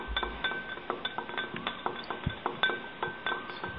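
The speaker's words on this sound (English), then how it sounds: "Keep stirring until all the baking soda has dissolved in the water." A metal spoon stirs baking soda into water in a glass, making quick repeated clinks and taps against the glass, light and close with no voices.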